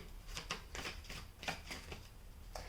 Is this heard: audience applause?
no